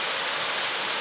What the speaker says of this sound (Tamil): ஆல்சோ இன்னும் தண்ணி கொட்டிட்டு தான் இருக்கு